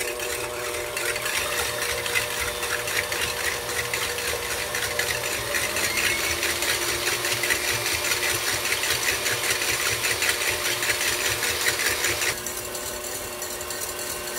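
Stand mixer with a whisk attachment beating egg whites for coquito cupcakes, a steady, loud mechanical whir running continuously, with a slight change in tone near the end.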